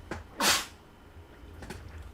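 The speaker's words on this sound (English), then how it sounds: "I'm about to sneeze." A person sneezes indoors: one sharp, breathy burst near the start, close and fairly loud, followed by fainter sniffs or movement.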